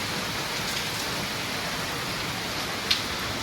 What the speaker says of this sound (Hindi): ये देखिए कितनी अच्छी बारिश हो रही है।